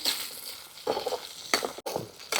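Large onions frying in ghee for a chicken pot biryani, a steady broadband sizzle with bursts of stirring and scraping in the pan, close and fairly loud, no talking.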